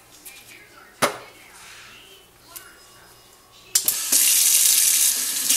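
Water from a tap runs loudly and steadily while hair is rinsed during a co-wash, starting with a few splashes and brief knocks, then rushing in a strong continuous stream for the last couple of seconds.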